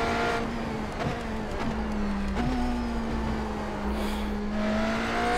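Inside the iRacing sim, a BMW M Hybrid V8 LMDh race car holds a steady engine drone that dips briefly with a few quick shifts and then climbs again, under faint background noise.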